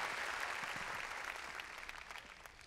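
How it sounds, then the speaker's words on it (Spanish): A church congregation applauds during a service, a steady wash of clapping that gradually thins out, moderately distant and fairly quiet. "Dale un aplauso al Rey bendito"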